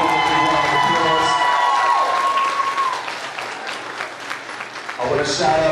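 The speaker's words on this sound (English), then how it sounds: "Let's give Mr. Young a big round of applause" Audience applause and cheering at a school African-American History Month celebration, loud and sustained from a packed crowd, with whoops and children's shouts, a brief dip midway before swelling again.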